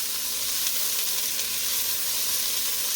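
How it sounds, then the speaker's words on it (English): Tomatoes and vegetables for goulash searing in a hot pan, giving a steady, close hiss of sizzling oil that holds level throughout with no pauses and no voices. "So what we're going to do is we're just going to let this get a little sear on it."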